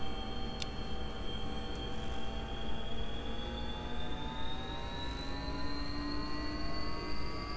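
An AW-139 helicopter's turbine engine in X-Plane 11 winding back to idle, a steady close whine with tones slowly climbing over a constant low drone, with no voices.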